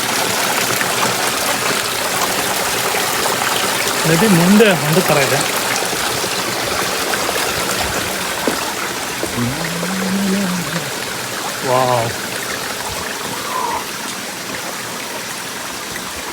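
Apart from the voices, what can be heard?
small forest river stream flowing, Sharavathi, Malnad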